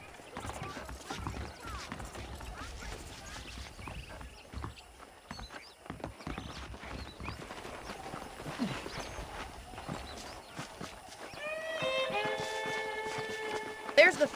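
Horses in Red Dead Redemption Remastered clop along in an uneven, continuous patter of hoofbeats at moderate volume, with a brief tonal flourish rising near the end.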